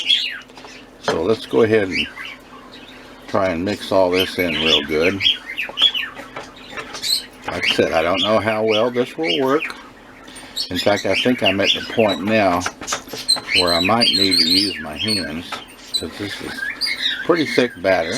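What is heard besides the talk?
pet birds chirping and squawking in the background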